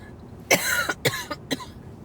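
A short bout of wet coughing bringing up thick green mucus, one harsh cough followed by two or three smaller ones, close up and fairly loud.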